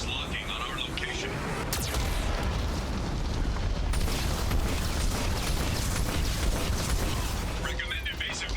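Heavy cannon blasts and explosions from a Geth cannon battle in Mass Effect 2 fill the whole stretch, loud and continuous, with mechanical clanks and a synthetic warning voice mixed in.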